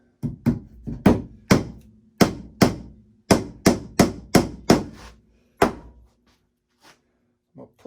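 About fourteen sharp hammer blows drive 3/4-inch poultry net staples into a wooden worm composting bin. The strikes land in quick, uneven bursts, loud and close, and stop with a couple of faint knocks at the end.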